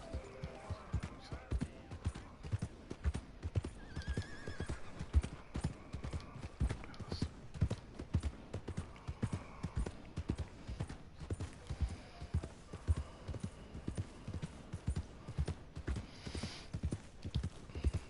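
Horses in Red Dead Redemption 2 make a continuous rhythmic clip-clop of hooves, fairly quiet and up close, with some faint game audio in the background.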